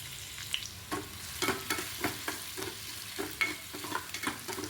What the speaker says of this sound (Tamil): கீரைக்கு தாளிப்புக்கு எண்ணெய் சேர்த்துட்டு கடுகு, காஞ்ச மிளகாய், வெங்காயம் சேர்த்து நல்லா வதக்கிடுங்க.